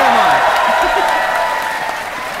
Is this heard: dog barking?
no